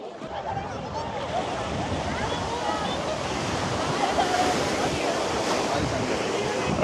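Gentle small waves wash onto KKS beach in Jaffna, Sri Lanka, a steady broad surf wash mixed with wind rumble on the microphone, close and continuous.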